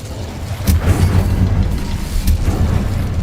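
An Incendio fire spell cast in Hogwarts Legacy bursts with a loud, deep rumbling whoosh, two sharp flaring impacts standing out over a continuous roaring blaze, close and heavy with no talk.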